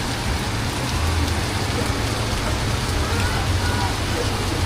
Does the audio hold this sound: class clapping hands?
no